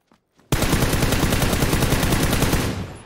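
Rapid automatic gunfire from a rifle in PUBG on the Miramar map, a loud sustained burst of closely spaced shots that begins abruptly after a brief quiet moment and runs for over two seconds before easing off.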